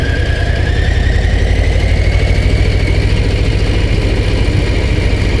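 A heavy Harley-Davidson Low motorcycle engine burbles steadily while engine braking downhill toward La Chambotte, a loud close rumble with constant wind roar and no speech.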